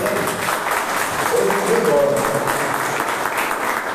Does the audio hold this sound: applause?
yes